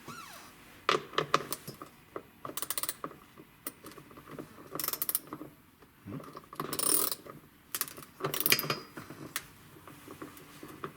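A 10 mm socket on an extension ratchets in bursts of rapid clicking, with metallic clinks between strokes, while working on a battery bracket of a 2020 Can-Am Maverick Sport.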